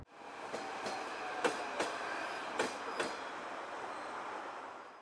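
A subway train ride: a steady rolling rumble fills the car, with rhythmic clacks from the wheels passing over rail joints, heard close and continuous.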